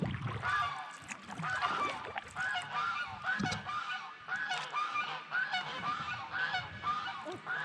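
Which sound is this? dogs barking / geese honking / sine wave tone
geese honking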